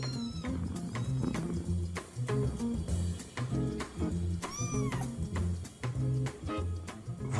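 Maine Coon kittens meow repeatedly at close range in a series of high, short cries that overlap one another.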